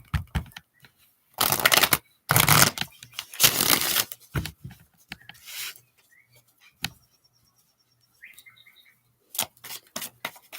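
Tarot cards being shuffled by hand, with bursts of riffling and rubbing card noise in a few loud clusters, then softer scattered taps and slides, close up with no talking.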